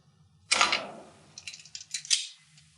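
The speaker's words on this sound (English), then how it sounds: "So I remove this vice grip." A vise grip is released from a steel garage door track during a torsion spring conversion, giving one sharp metallic snap followed by a few lighter clinks and rattles close by.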